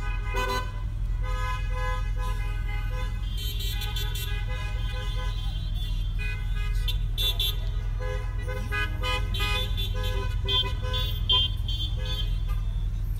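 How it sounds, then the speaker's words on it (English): Car horns toot repeatedly during a car parade over a steady engine drone, with several overlapping honks in bursts throughout. "Aren't you honking"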